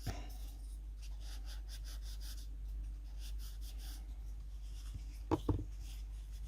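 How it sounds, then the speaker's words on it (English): Tailor's chalk scrapes across felt in soft, faint rubbing strokes under a low steady hum, ending with a couple of slightly louder taps. "I'm just going to take my tailor's chalk and I'm just going to mark that"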